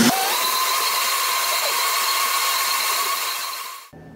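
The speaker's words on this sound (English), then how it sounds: "We're going to blend it up." A blender whirs loud and steady through a ginger, lemon, apple and spinach health shake with water, a close, continuous motor drone that holds for several seconds, then cuts off abruptly near the end, with no talk.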